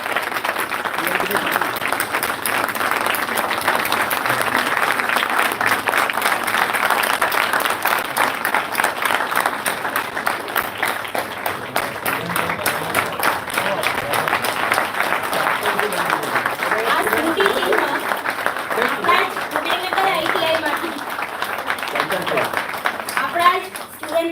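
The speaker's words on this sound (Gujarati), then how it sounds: "તાળીઓના ગડગડાટ સાથે એમને આપણે વધાવીએ." A crowd applauds continuously for a long stretch, the dense clapping steady and full, rising slightly again near the end.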